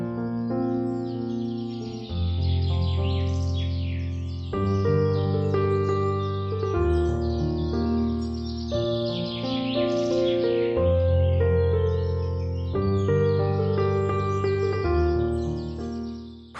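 Birds sing in a garden, their bright chirps and trills scattered high above a steady bed of sustained, layered tones that runs unbroken throughout.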